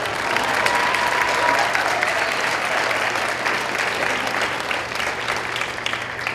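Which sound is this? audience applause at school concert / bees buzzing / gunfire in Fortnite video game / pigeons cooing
audience applause at school concert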